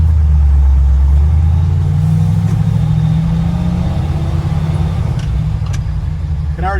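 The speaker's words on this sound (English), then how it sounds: "You can already tell the truck is a lot quieter." A truck drives in second gear after an axle swap, its engine humming loud and close with a steady low rumble that shifts slightly in pitch as it moves, with no talking.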